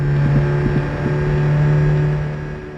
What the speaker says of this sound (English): each car has its own distinct sounds and engine revs